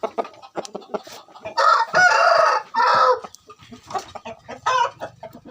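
Several roosters crow in long, loud bursts nearby, mixed with clucking hens and scattered farmyard noise, while people talk in the background.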